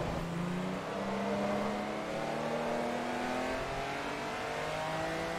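A Lamborghini Gallardo engine in Forza Motorsport 3 accelerates hard and steadily, its loud, continuous revving climbing in pitch through the gears without a break.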